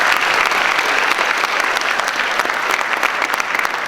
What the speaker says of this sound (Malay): Beri tepukan kepada